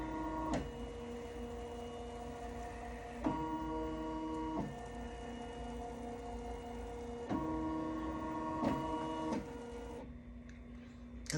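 An embroidery machine traces the outline of its hoop while making an appliqué with glitter vinyl, giving a steady mechanical whir with tonal motor hums that shift in pitch at intervals and brief clicks, ending in a quieter pause.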